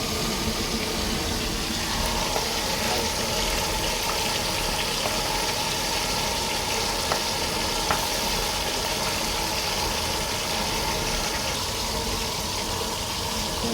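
Whole tilapia fries in hot oil, giving a steady, dense sizzle and crackle that stays loud and even throughout with no talking.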